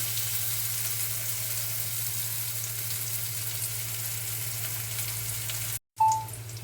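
Onions fry in a pan for a cluster bean dish, with a steady close sizzle and crackle that drops out briefly near the end and then resumes.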